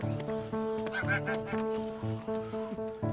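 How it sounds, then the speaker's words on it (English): A flock of geese kept on a Tudor farm honk repeatedly in overlapping, nasal bursts, loud and close, with a steady layered chorus throughout. "the boys have been nurturing their flock of geese"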